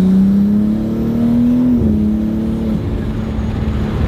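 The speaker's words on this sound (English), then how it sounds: "Hear that nice intake?" A car's engine intake roars as the car accelerates, a loud, steady drone whose pitch climbs, dips at a gear change, then settles, heard close and alone.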